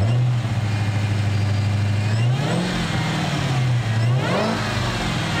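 A 2015 Dodge Challenger SRT Hellcat's supercharged engine idles with a deep burble, then revs up twice in rising and falling sweeps, loud and close with no talking.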